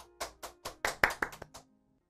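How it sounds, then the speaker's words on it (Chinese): A small group claps briefly during a health talk show, about eight separate sharp claps at an uneven pace that build and then fade within two seconds, fairly close and with no talk over them. "这个我们给他鼓鼓掌，非常鼓励。"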